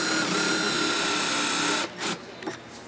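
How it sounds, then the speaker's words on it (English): Power drill boring and countersinking holes in plastic for screws, a steady whirring grind that runs loud for about two seconds, then stops, followed by a couple of short bursts. "we have to drill and countersink and then put the screws in"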